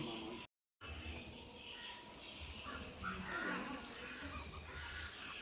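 Water poured from a jug onto the ground during a house stake-driving ceremony in Malappuram, a steady splashing wash with a brief silent gap near the start and faint voices in the background.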